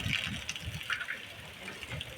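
Rainwater gushes and splashes into a bottle left out during a downpour, a steady wet rush with patter on top and people talking nearby.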